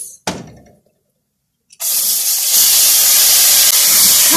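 Rice tipped into a pan of browning vermicelli sets off a loud, sudden sizzle. A sharp hiss lingers after a brief earlier spit, then the frying erupts and holds steady and close.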